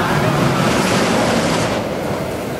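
Water spraying in a mist tunnel on the Superman roller coaster at Six Flags New England, a steady loud rushing hiss that eases slightly toward the end.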